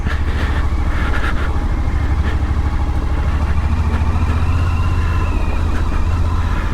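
A Suzuki V-Strom 1050XT rides along a muddy, leaf-covered trail, its engine giving a loud, steady, close rumble throughout, with faint rattles and knocks over the top.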